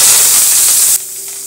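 Chopped onions hit hot oil with mustard seeds and fennel in a pan for a country chicken curry, giving a loud, steady sizzling hiss that stops abruptly after about a second.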